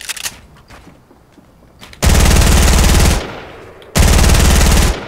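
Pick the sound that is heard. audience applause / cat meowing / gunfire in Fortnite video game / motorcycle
gunfire in Fortnite video game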